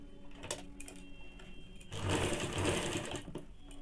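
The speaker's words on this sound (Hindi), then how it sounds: "मोड़ के ये जो सिलाई पहले वाला है इसके ऊपर से इसे डाल के सिलना है" A sewing machine stitching fabric for baby panties, with close mechanical whirring and rapid needle clatter that starts in short bursts and then runs steadily louder before easing off.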